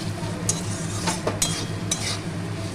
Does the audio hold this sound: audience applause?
no